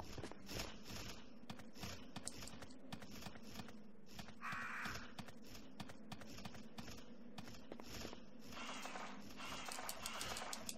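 Crows caw faintly now and then in a Resident Evil 3 outdoor area, set against a steady background of clattering and tapping noise.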